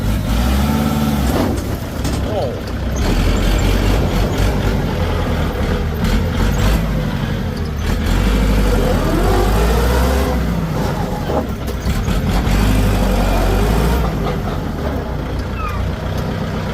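A used 2012 Kubota L4708 four-wheel tractor, fitted with a front blade and disc harrow, runs loud and close, its diesel engine rumbling and revving in waves throughout, with occasional voices faintly underneath.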